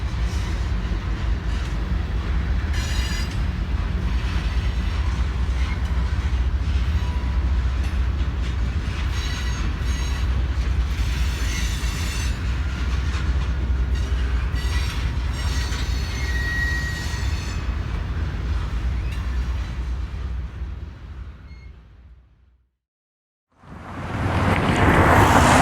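A BNSF freight train led by an SD75I locomotive rolls past in Nebraska or Iowa, a loud steady rumble of wheels and cars with faint squeals, sustained for over twenty seconds before cutting out briefly and resuming.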